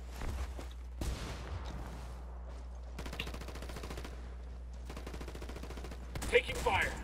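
Video-game firefight with rapid bursts of automatic gunfire and scattered shots, moderately close, broken by brief pauses, with a voice speaking over parts of it.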